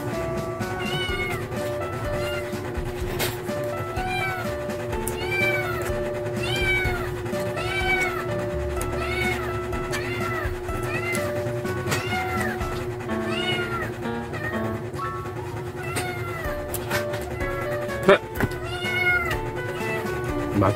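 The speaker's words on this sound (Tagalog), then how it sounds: "meron naman tayong background music ng mga kuting" Several kittens meow repeatedly in high, wavering cries, overlapping one another above a steady musical background throughout.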